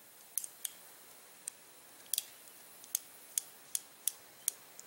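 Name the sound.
revolver cylinder clicking as cylinder stop engages grooves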